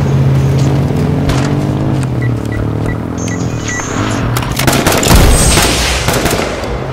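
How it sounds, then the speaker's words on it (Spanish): Gunfire in the battle-royale video game H1Z1, a dense run of sharp shots crackling over a steady low vehicle rumble, with a louder burst near the end. "Yo les disparo para que no vengan."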